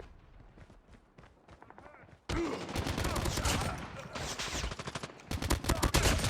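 Rapid automatic gunfire bursts from the mobile shooter game Call of Duty Mobile, loud and dense after a quieter stretch of scattered single shots, with voices over the action.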